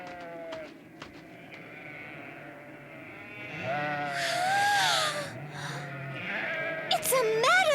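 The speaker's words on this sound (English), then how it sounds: "just look at all the fluffy sheep!" Fluffy sheep bleat in a cold meadow, several drawn-out wavering calls overlapping close by, with voices talking in the background.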